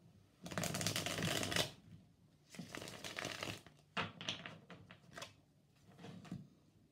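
Tarot cards being shuffled in a few bursts, a long riffling run followed by shorter flicks and taps, close and fairly quiet with no talking.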